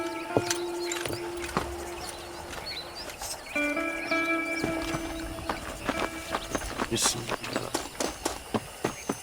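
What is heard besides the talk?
horse hooves trotting, from the video game Red Dead Redemption 2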